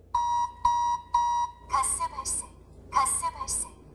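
A carbon monoxide alarm sounds inside a sealed test space as carbon monoxide gas is fed in. It gives three evenly spaced loud beeps up close, then switches to a brighter, warbling pulsed alarm pattern.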